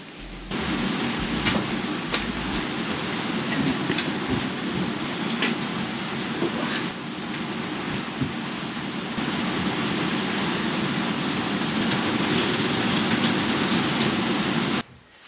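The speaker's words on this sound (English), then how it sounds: "the rain's starting to come down heavy" Heavy rain pours steadily over an open field, a dense, even hiss that holds at the same loudness throughout, with a few sharper drops or taps standing out here and there and no talk.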